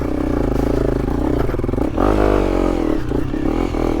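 An enduro motorcycle engine revs hard and steadily up close on a road in Thailand, its throaty drone rising and surging without a break.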